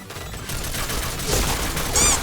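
Dense rifle fire from a SCAR in the shooter game Point Blank, a continuous close fusillade of rapid shots with booming hits, loud throughout.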